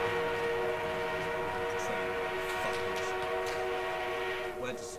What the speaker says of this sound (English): We have an armored train en route.